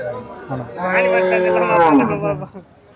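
A six-month-old buffalo calf at a livestock market calls out with a long, loud, wavering bellow, close by, with market chatter and voices around it.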